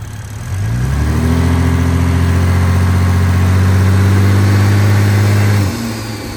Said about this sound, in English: Let's get a couple sound clips of revving.